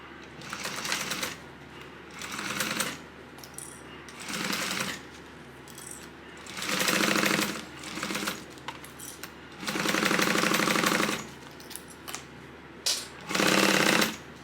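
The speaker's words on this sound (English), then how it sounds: "We are going to stitch at a 3/8 of an inch" A sewing machine stitches around the exterior of a tote at a 3/8 inch seam allowance, running in several loud, rapid bursts of a few seconds each, separated by brief pauses, with no talking.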